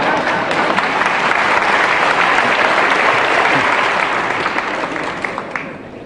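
A lecture audience claps loudly and continuously, a dense close wash of applause that thins out toward the end.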